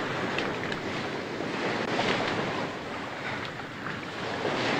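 Sea waves wash and break steadily along a shore in a continuous broadband rush, with wind noise buffeting the microphone throughout and no voices.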